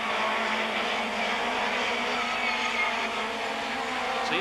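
Touring cars from the 1991 British Touring Car Championship, a BMW closely chased by a Ford into Becketts corner, make a steady, loud, continuous engine roar with no breaks, sounding somewhat distant and blended.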